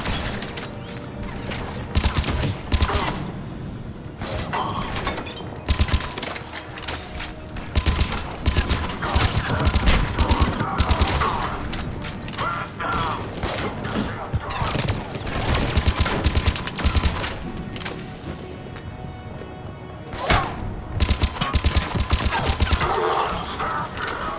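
Dense bursts of automatic gunfire and weapon fire in the video game Mass Effect 3 during a firefight, loud and sustained with brief gaps and character voices shouting over it.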